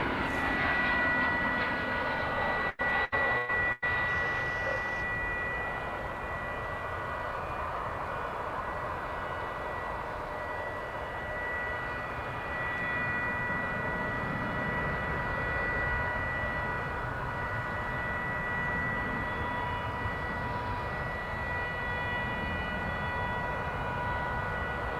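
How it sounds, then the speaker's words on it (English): An American Airlines plane lands at DFW airport with a loud, sustained engine roar and a high whine. It holds steady for the whole stretch with slight swells, and no voices are heard. "What you just saw there was American Flight 1214 coming in from Salt Lake City"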